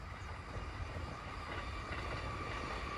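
A train runs past in the Japanese countryside near Tsuno Shrine in Shiga in summer, a steady rumbling roar with faint rail clatter that holds at a fairly even level for the whole stretch, with no voices.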